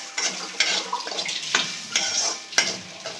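Rice dry-roasting in a pan for kheer, stirred with a utensil that makes regular scraping strokes about every half second over a soft continuous hiss, close and alone.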